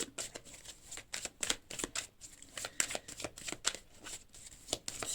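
Tarot cards being shuffled by hand, a run of quick riffling bursts and soft slaps in an uneven rhythm, close and fairly quiet, with no talk.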